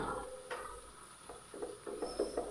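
An oats chapati cooks on a pan, a soft low sizzle with several light scrapes and taps as a spoon turns and presses it, quiet and close.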